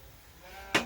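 A single ewe on an Aberdeen farm gives one short, loud bleat near the end, following a faint, quiet background.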